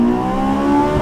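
A Honda S2000 with J's Racing and Spoon modifications revs hard, a loud, close, high-pitched engine wail holding steady over a brief second.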